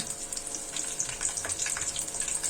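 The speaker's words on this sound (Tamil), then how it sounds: "எண்ணெய் ஹீட் ஆனதுக்கப்புறமா ஒரு 3 பச்சை மிளகாய் போட்டுக்கோங்க" Green chillies fry in hot oil, giving a close, steady crackling sizzle with fine popping throughout.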